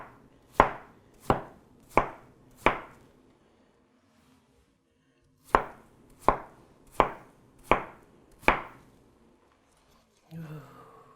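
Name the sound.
cutting watermelon into slices with a knife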